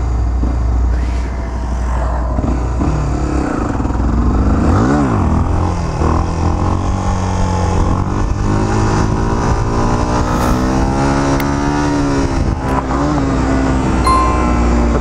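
A Honda XRE 300 motorcycle engine revs loudly and continuously up close, its pitch sweeping up and down as the throttle is worked and eased off, steady and dominant with no talking.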